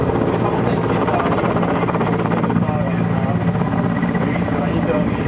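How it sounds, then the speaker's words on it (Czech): A military helicopter hovers over a demonstration area at the NATO Days event in Ostrava, with a loud, constant rotor and engine drone throughout while an announcer speaks over it. "Celou oblast opět zajišťuje vrtulník 35"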